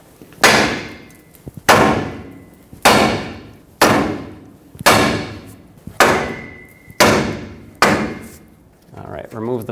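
Hammer blows ring out against a steel tie rod stud on a 2011-2016 Ford F-350 front suspension, eight sharp metallic strikes at an even pace, each decaying quickly, close by.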